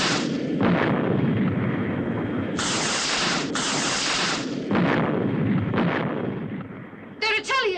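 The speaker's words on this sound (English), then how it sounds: "The missiles are bursting well clear." Missiles bursting against a force field defense in a 1967 Captain Scarlet and the Mysterons episode: a continuous roar of explosions with several long hissing bursts, loud and sustained throughout, ending in a few sharp electronic blips.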